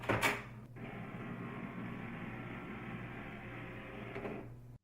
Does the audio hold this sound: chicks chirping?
no